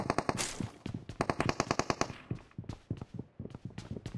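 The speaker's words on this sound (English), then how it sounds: "He's shooting at you." Rapid bursts of automatic gunfire crackle in PUBG Mobile on the Miramar map, dense rattling volleys with brief gaps between strings of shots, loud and close.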